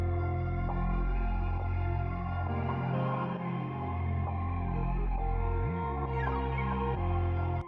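A dense producer's sample loop plays steadily, layering melodic sampled parts over a percussion loop with punchy accents from an Architecture kit, full and continuous with no talking.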